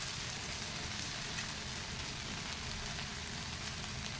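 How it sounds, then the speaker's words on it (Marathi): Fresh village-grown fenugreek leaves frying in oil while being stirred, a faint, even crackling hiss that runs steadily throughout with no voices. "तेलामध्ये परत आता छान हलवून घ्यायचं मस्त मेथी परतून घ्यायची"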